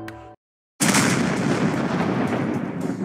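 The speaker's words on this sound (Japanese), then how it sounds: "何よこの音、爆発？" A heavy explosion from the Action Taimanin action game cuts in after a brief silence, loud and broad, then rumbles on as a sustained roar of blast and debris for several seconds.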